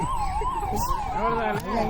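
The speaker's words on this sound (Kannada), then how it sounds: "ಈಗ ಅಗ್ನಿಶಾಮಕ ದಳ ಬಂತು." A loud, continuous wailing siren from a fire engine arriving at a village fire-walking festival where a coconut tree caught fire, rising and falling steadily, with faint background voices underneath.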